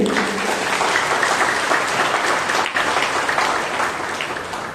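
Hearty congregational applause in a Grace Ministries church service, a sustained wash of many people clapping that holds steady and then tapers slightly toward the end.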